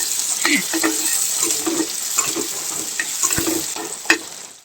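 Meat and potatoes fry in a pan with a continuous hiss and sizzle, broken by repeated scraping stirs of a spatula against the metal.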